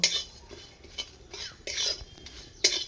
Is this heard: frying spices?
yes